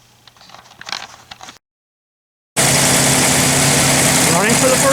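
A 1957 Chrysler engine starts and runs loud and close, a steady idle with a faint rise in pitch near the end, after quiet background sounds and a brief silence.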